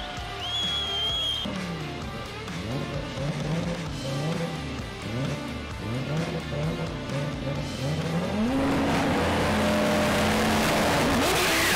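A 1200-horsepower Audi TT RS drag race car accelerates hard at a drag racing event, its engine rising repeatedly through the gears with loud, close revving and rising roar, heard alone without talk.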